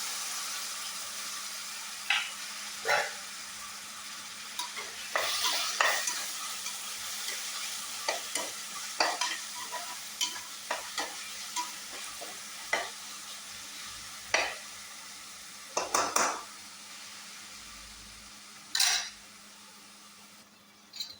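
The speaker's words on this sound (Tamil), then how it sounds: "தக்காளி போட்டு நல்லா வதக்கி எடுத்துக்கலாம்." Tomatoes sautéed in a pan for a hotel-style boti dish, a soft steady sizzle broken by irregular scrapes and clinks of a spoon stirring against the metal, close and alone without voices.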